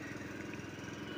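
Small pump engine drawing water from a newly drilled 12-meter well for a greenhouse, running steadily with a continuous close buzzing drone and no talk.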